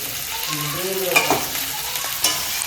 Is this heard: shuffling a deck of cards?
no